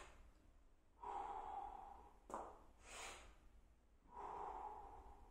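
Breathing during a dumbbell exercise, several distinct breaths close to the microphone, each a soft airy rush lasting about a second, separated by brief quiet pauses.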